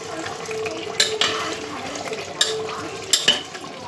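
Mutton curry, a thin goat meat stew, sizzles and is stirred in a pressure cooker, with steady frying hiss broken by several sharp metallic scrapes and clinks of a spoon against the pot.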